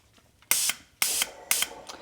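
A paint sprayer sends out three short, sharp bursts of hissing spray, each about a quarter second long and evenly spaced, with quiet between them.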